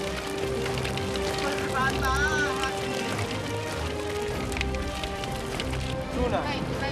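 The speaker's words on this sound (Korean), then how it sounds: "물고기 파닥거리는 소리가 꼭 빗소리 같죠." Fish flap and thrash in a net on a fishing boat, a continuous patter like heavy rain, with voices and engine noise mixed in underneath.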